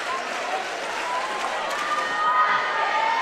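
Basketball crowd at a boys' state championship game, a dense sustained roar of cheering and shouting that fills the whole moment, loud and continuous without a clear break.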